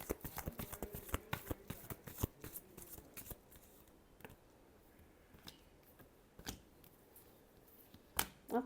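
Tarot cards shuffled close up, a quick run of crisp riffling snaps for the first few seconds, then sparser single slaps and flicks with quiet gaps between.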